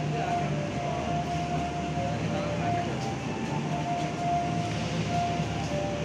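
KA Jayakarta Premium passenger train arriving at Pasar Senen station in Jakarta, a steady loud rumble of rolling wheels with a faint whining tone running throughout, continuous and close.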